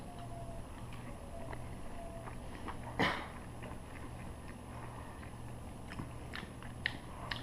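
One close, crisp bite into smoked meatloaf cooked on a Traeger pellet grill lands partway through, followed by faint chewing over a quiet room hum.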